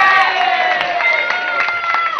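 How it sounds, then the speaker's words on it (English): A crowd of spectators cheers and shouts for a contestant at a party game, a loud, steady roar of voices with high whoops and children's shrieks lasting the whole moment. "1, 2, 3, give him a cheer!"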